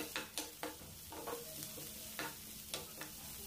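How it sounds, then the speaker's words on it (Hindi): Chopped onions fry in a pan for a samosa filling, a steady soft sizzle broken by several sharp scraping stirs of a utensil against the pan, close and with no voices. "यहाँ पर ये थोड़ी सी कटी हुई प्याज, इसको भी भून लेंगे"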